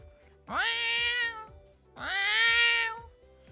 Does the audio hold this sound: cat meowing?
yes